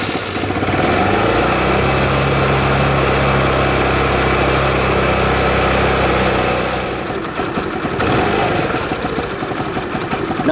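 A scooter engine starts and runs at a loud, steady buzzing idle, with a brief dip and roughness near the end before it settles again, close up, with no voices.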